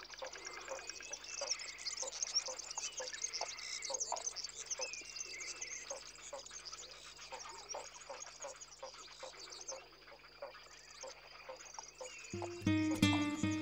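Many birds call and chirp continuously at a nesting colony of spoonbills, cattle egrets and little egrets in Doñana National Park, Spain, a dense layered chorus with a louder close burst near the end.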